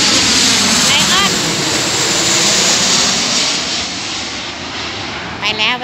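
A Lion Air passenger jet passes close overhead near a railway station in Udon Thani, a loud sustained roar of jet engines that slowly fades, with a brief chirp near the end.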